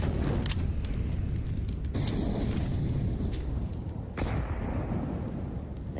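Grenades bounce and explode in a competitive Counter-Strike match: dense, rumbling blasts fill the mix, with sharper bursts standing out a couple of times amid continuous game noise.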